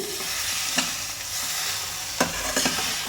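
Mango pieces frying in a pan, a steady crackling sizzle with a few sharp scrapes of stirring, no talk.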